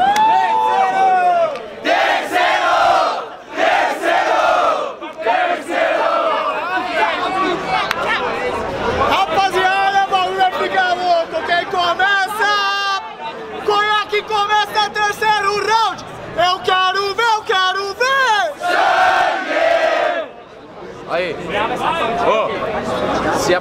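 A crowd at a Brazilian freestyle rap battle, Batalha da Aldeia, shouts and yells in loud surges around a rapper's rapid Portuguese vocals, with brief dips between bursts.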